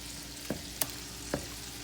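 Shrimp and cheese grits stirred in a pot, a quiet low bubbling hiss broken by three soft spoon knocks against the pot, no voices.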